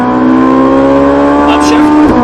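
A Ferrari 458 Italia V8 at full throttle roars loud and steady from inside the car, its pitch holding high and constant with no talk in the clip.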